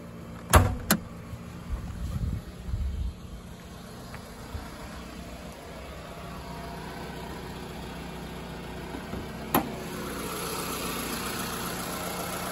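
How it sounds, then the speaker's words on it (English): A 2004 Toyota Camry LE with a 2.4-liter 16-valve engine idles smoothly and steadily, a low, even hum. A few sharp clicks and thumps come near the start, and another click sounds near the end. "Idle's nice and smooth."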